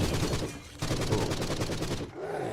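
Rapid gunfire from a heavy gun in the video game Forgive Me Father, a dense burst of loud, crackling shots that pauses briefly near the end and then resumes.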